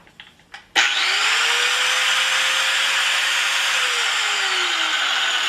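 An angle grinder spins up with a cutting disc after a few faint knocks, then holds a loud, steady whine with a slowly falling pitch over several seconds.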